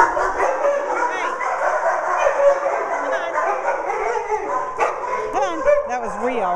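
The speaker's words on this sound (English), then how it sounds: "as you can see, it's pretty noisy and stuff out here at the kennels" Several dogs at a kennel yap, whimper and bark in a busy, continuous chorus close by, with high excited yips and whines rising over one another and someone talking beneath them.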